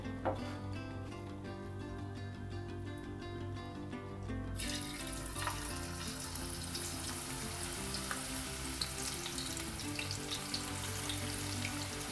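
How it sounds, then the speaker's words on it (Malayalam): Pieces of mixed bitter gourd are dropped into hot oil, the frying starting low and then swelling into a dense, bright crackling sizzle that continues steadily, close up. "ഈ ചൂടായ എണ്ണയിലോട്ട് നമ്മൾ ഈ മിക്സ് ചെയ്ത് വെച്ചേക്കുന്ന പാവയ്ക്കയില്ലേ അത് കുറേശ്ശെ ഇട്ട് കൊടുക്കേ"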